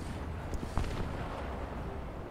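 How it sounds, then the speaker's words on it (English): Artillery fire in War Thunder tank combat, a muffled distant boom and a few thuds over steady low battle rumble, with no talking. "I see artillery fire,"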